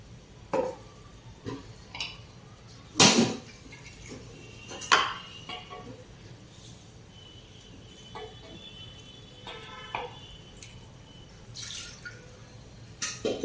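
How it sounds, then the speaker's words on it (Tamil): Rinse water poured from a mixer jar into a pot of dal-free sambar in a home kitchen, with scattered splashes, drips and clinks of the jar against the pot, close and fairly quiet. "இந்த மிக்ஸி ஜாரையே கழுவி ஊற்றிடுங்க."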